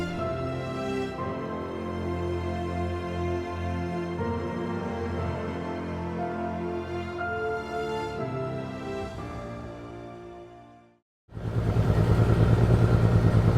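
A motorboat engine drones steadily for several seconds, cuts out briefly, then returns louder and rougher, close by, at Fort Leonard Wood Recreational Area.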